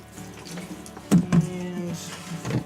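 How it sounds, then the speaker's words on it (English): Water runs from a tap onto soil for sprouting wheatgrass, a steady close splashing stream with two louder gushes midway, alone without talk. "we forgot to water soil first"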